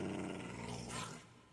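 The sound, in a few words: dog (wolf) growling in video game Minecraft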